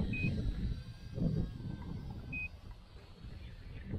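A HolyStone HS110D 1080P camera drone gives two short, high beeps a couple of seconds apart while recording outdoors in a park, faint above a low, rumbling background.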